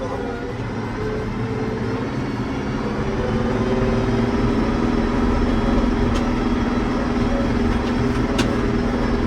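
Farm tractor driving straight at about 13 km/h under FJ Dynamics automatic satellite steering, a steady loud engine drone with low rumble throughout that swells slightly halfway, and a couple of faint clicks.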